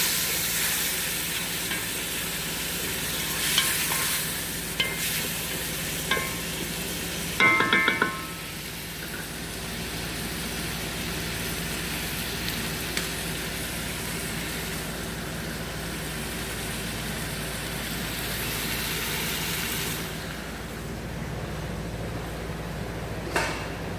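Meat frying in a pan with tomato added, a continuous loud sizzle with occasional stirring clatter and a brief burst of scraping partway through, no one talking.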